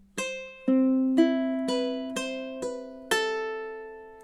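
Ukulele fingerpicking etude, measure 12: six plucked notes in even time, each ringing clearly and decaying before the next, played alone and close with no voices.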